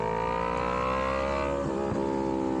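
A Yamaha MT-03 motorcycle (R3 platform) with an aftermarket exhaust revs loud and close, its steady engine drone rising in pitch, then dipping in a brief crackle before climbing again, with no talk.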